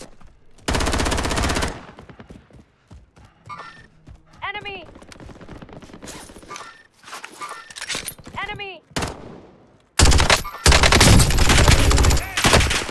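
Call of Duty: Warzone gunfire: two loud, close bursts of rapid automatic fire, one near the start and another filling the final seconds, with quieter shots, whizzing rounds and brief game voice lines in between.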